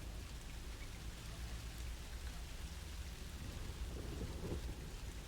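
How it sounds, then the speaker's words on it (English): Steady rain pours in the video game Song of Horror while low thunder rumbles underneath, a continuous, even wash of sound with no talking. "Wow, the rain and the water looks super good."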